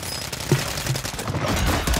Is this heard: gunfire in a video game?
yes